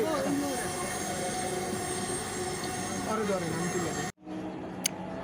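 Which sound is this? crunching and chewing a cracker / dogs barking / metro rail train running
metro rail train running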